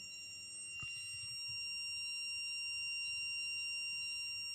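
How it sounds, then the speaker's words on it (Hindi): A continuity tester checking the ECU wiring of a Splendor BS6 fuel-injected bike gives a steady, high electronic beep with layered tones, sustained and close, with no talk. "तो इसमें बीप का साउंड आ रहा है"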